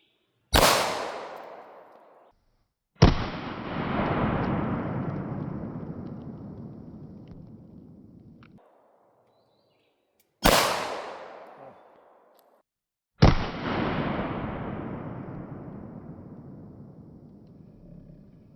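.22 rifle shots fired at 3D printed armor targets outdoors: four sharp, loud cracks, each followed by a long decaying echo roll, the shots in two pairs with a pause between.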